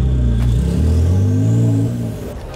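A car's loud exhaust roars steadily while revving, with a faint whistle riding above it before the sound eases off near the end.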